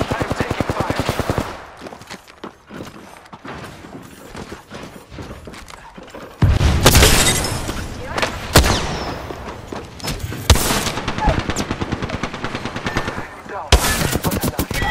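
Rapid automatic gunfire from an Apex Legends match, loud and close, with dense bursts of shots and sharp impacts coming in clusters across the scene, with heavier blasts in the second half.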